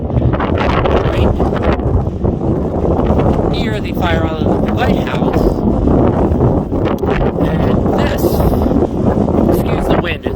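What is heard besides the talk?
strong wind at the beach near Fire Island Lighthouse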